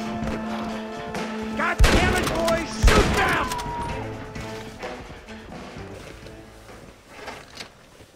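Gunfire in the Red Dead Redemption video game, two heavy booming shots close together followed by scattered fainter bursts, with speech and music running underneath.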